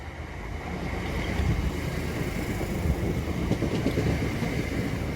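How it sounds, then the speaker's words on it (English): A Southeastern service to London Charing Cross, led by unit 466008, pulls into Grove Park station with a broad, steady rumble of wheels and motors, heard outdoors with some wind buffeting the microphone. "arriving now is the 1321 Southeastern service to London Charing Cross"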